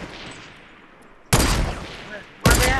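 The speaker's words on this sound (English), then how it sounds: "I gotta shoot them." Gunfire in Fortnite, two sudden loud bursts of rapid shots cutting in after a quieter stretch of game ambience.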